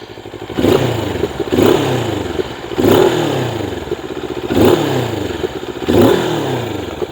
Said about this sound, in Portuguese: a sonoridade do roncar do escape é muito interessante